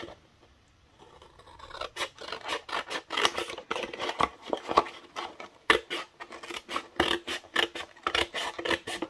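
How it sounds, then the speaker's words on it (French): Scissors snipping through cover material while binding an album by hand: a rapid, irregular series of close, crisp cutting snips and rasping strokes, fairly quiet, with no talking. "je pense que je vais couper ici"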